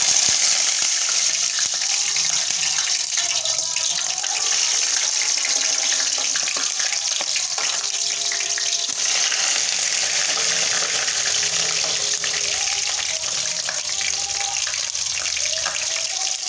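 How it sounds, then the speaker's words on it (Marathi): Eggplant pieces, still wet from soaking water, hit hot oil on a stovetop: a loud, continuous hissing sizzle with crackling spatter that holds steady from start to end. "आता आपण हे वांगे टाकून घेऊ तळण्यासाठी।"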